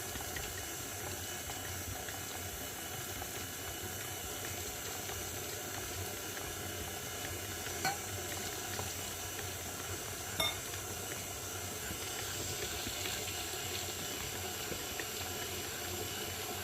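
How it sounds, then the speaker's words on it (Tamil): Water poured into a hot pan while cooking fills the scene with a steady, broad hiss of sizzling and bubbling that holds for the whole stretch, with a couple of sharp clinks of metal near the middle. "இப்போ வந்து தண்ணி ஊற்றலாம்."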